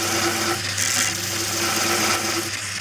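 A homemade compact horizontal belt sander powered by a scroll saw motor runs at close range, grinding with a continuous, loud, even whir and hum that holds steady throughout.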